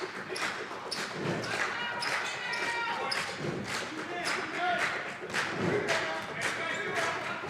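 Home crowd noise fills a college basketball gymnasium during a Jaguars versus Yetis game, a steady roar with claps, cheers and thumping basketball bounces, with a commentator's voice over it.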